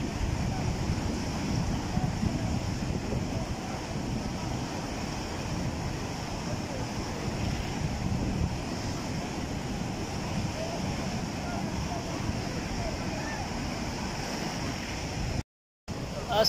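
Rushing river water roars steadily beneath a cable lift crossing close above a flood-swollen river in Swat, a dense broadband wash with wind buffeting the microphone throughout, briefly cutting out near the end.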